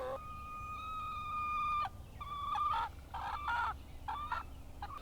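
Chickens in a coop, including an older broody hen, cluck and call in a run of short tonal bursts over a faint low background hum, fairly quiet and close.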